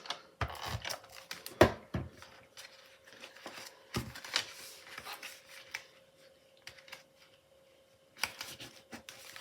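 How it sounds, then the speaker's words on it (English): Tape being pressed and smoothed onto the edge of a paper card: scattered soft crinkles and sharp rubbing scrapes at close range, irregular bursts with quiet gaps and a faint steady hum beneath. "I'm going to put some tape on this too"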